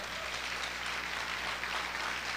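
A church congregation applauds during a Spanish-language conference, with steady, dense clapping throughout and a sharper burst at the very end.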